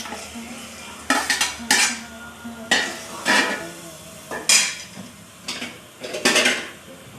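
Curry leaves and chopped mango dropped into a pan for a coconut-milk mackerel curry, giving a series of sharp metallic clinks and scrapes of a utensil against the pan, in irregular bursts with no talk.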